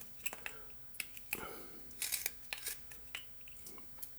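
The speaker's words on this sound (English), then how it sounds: "I'm just going to put a little cut in the side over there" A knife carves into wood while whittling a mountain lion figure, giving a series of short, crisp scraping and snicking cuts close up with brief pauses between strokes.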